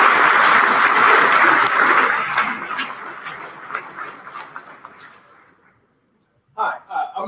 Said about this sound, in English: please give a round of applause for our Vice President,